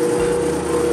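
A giant drill bit bores into metal, throwing hot chips, with a steady, loud grinding whine that holds at one pitch and stays close for the whole moment.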